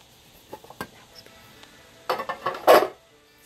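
A hot pan and dishes are set down in a kitchen: a few light clinks and taps, then a burst of loud, close clattering knocks near the end.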